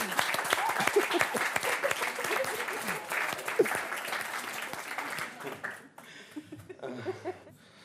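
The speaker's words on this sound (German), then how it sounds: "Nochmal Applaus für Ihab." Studio audience applauds at a German comedy talk show, dense continuous clapping with scattered laughter, thinning out and fading near the end.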